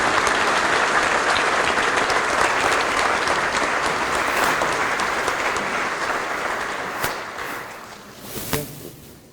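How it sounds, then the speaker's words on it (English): Sustained applause from a crowd at a senior awards ceremony honoring a student, dense and steady at first, then thinning and fading with a few scattered louder claps near the end. "Give him a round of applause."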